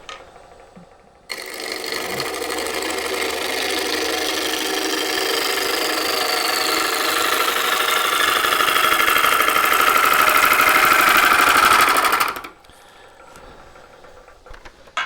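Ebony mulberry bowl spinning on a wood lathe as a bowl gouge rides the bevel, a steady loud whirring cut with a slowly shifting whine that runs for about eleven seconds, then stops abruptly.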